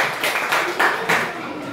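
Classroom applause from students clapping together for a teacher, a few swelling bursts of claps close by with a voice faintly mixed in.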